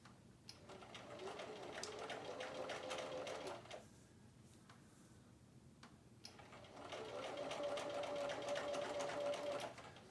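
A sewing machine stitches fabric in two steady runs of fast, even needle chatter, separated by a quieter pause of a few seconds while the fabric is adjusted.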